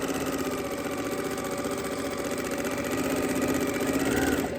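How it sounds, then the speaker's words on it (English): Sewing machine running steadily while stitching a cord wrap along a marked line, a close, continuous mechanical hum with rapid needle rhythm throughout, ending abruptly. "I will just sew along the line."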